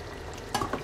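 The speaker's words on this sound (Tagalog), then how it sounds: "Kumukulo-kulo pa." A short burst of bubbling and sizzling from a pot of beef caldereta boiling on the stove, starting halfway through after a quiet moment, close and moderately loud.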